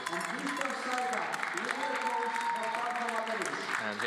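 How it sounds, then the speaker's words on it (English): Polish supporters applaud and celebrate in the finals hall of a junior men's 10m air rifle team shooting event, a moderate sustained clapping under a commentator's voice. "much to the applause and celebrations of the Polish supporters that have gathered here in the finals hall"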